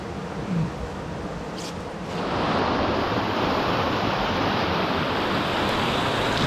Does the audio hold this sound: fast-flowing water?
yes